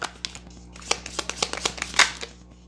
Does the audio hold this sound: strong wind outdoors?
no